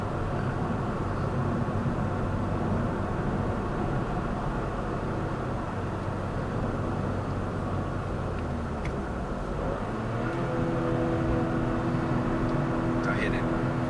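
A Toyota GR Corolla accelerates hard in second gear, giving a steady, loud engine and road roar heard from inside the cabin. The note shifts pitch near the end and no voices carry over it.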